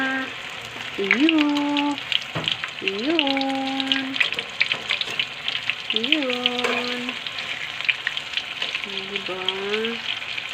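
Fried fish sizzling steadily in a pan as it is turned over, with a constant crackling fry close by while someone talks over it.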